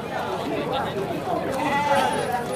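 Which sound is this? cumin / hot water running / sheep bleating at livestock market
sheep bleating at livestock market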